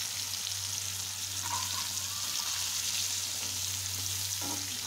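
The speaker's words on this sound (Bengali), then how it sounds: "এখন আমি আলুটা ফ্রাই করে নিচ্ছি।" Potatoes seasoned with turmeric and chili powder fry steadily in hot oil, a close, even sizzle that continues without a break and with no voices over it.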